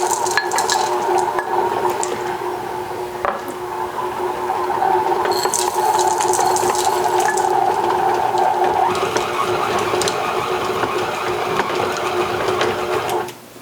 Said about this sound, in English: We'll add that into this cookie dough while it mixes.